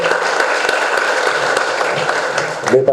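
An audience applauds at a medical conference on the 118 emergency service in Agrigento, Sicily, a dense, even patter of clapping throughout, loud and near, fading at the end.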